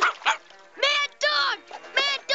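A cartoon family dog gives a series of sharp, tonal yips and barks, several bursts in quick succession, loud and close, apparently voiced with a cartoonish quality.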